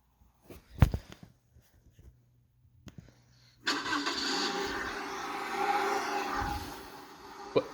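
A car engine starts up partway through after a few faint knocks, then runs with a steady mid-pitched hum and rises briefly as if revved before settling, heard fairly close.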